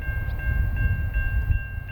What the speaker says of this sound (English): up came a northbound. This train had 3 CN Tier 4 GEVOs in the lead